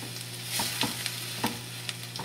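A cream spinach mixture with cheese and Italian herbs is being stirred in a pan, with a soft steady sizzle and several distinct scraping strokes of the utensil, close by and with no talk.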